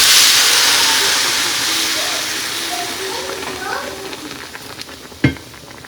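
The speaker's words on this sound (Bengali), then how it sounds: "তো জল দিয়ে দিচ্ছি, এবার ফুটতে থাকুক" Water poured into a hot pan of fried vegetables and buckwheat, with potato and raw banana, makes a loud hissing sizzle that slowly fades into softer bubbling, ending with a sharp clink near the end.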